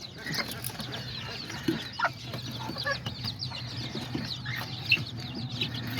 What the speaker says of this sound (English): she's my little Silkie chicken, the one I started with